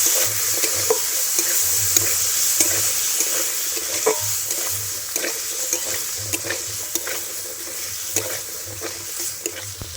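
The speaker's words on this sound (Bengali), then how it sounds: "এবার খুব ভালো করে আমি নেড়ে নেব আলুটা একটু ভেজে নেব" Potatoes with turmeric and salt sizzle loudly in a pan for cauliflower singara filling, while a spatula scrapes and stirs in repeated close clicks and taps throughout.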